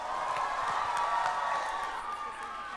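An audience claps and cheers at a celebration, a steady dense wash of applause sustained at a moderate level throughout.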